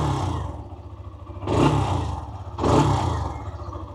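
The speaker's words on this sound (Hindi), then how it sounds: "बाइक को स्टार्ट कर लेते हैं, इंजन साउंड सुनते हैं और एग्जॉस्ट नोट भी सुन लेते हैं।" Hero Xtreme 125 motorcycle, a 125cc bike idling with an aggressive exhaust note, then two sharp throttle blips about a second apart before settling back to a steady idle.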